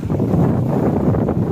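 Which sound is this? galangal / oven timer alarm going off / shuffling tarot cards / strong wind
strong wind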